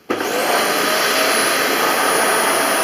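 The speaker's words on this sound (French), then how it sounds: "Et ensuite, vous passez l'aspirateur." A vacuum cleaner switches on and runs over a mattress, a loud, steady high-pitched whine and roar starting abruptly and holding constant, with no talking.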